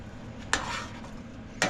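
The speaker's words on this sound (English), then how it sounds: "And now I add a can of coconut milk, and you stir that in" Canned coconut milk being stirred into a celery and potato soup in a pot inside a small 1991 Toyota motorhome, a soft continuous swishing with two brief utensil scrapes, close and quiet.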